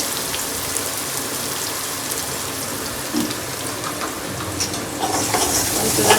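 Onion and garlic sautéing in a pan for soybean masala rice: close, loud, steady sizzling and crackling with stirring scrapes, growing busier and brighter toward the end.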